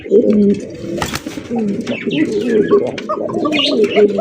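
Lahori pigeons coo in a steady, close, repeated series of soft throaty calls with faint chirps of other birds in the background.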